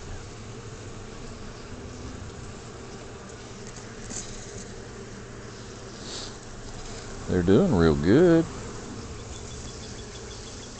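Bees from a swarming colony in a top bar hive hum as a low, steady drone beneath a voice, with a brief louder burst of speech near the end.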